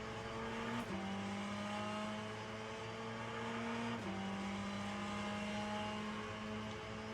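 A race car screams at full throttle around the Sebring circuit in Le Mans Ultimate, a steady high engine whine that climbs through the gears with two quick upshifts, close and continuous, and no talking.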